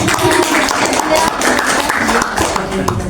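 Steady applause from a crowd, a dense wash of clapping that holds for a few seconds with no pauses.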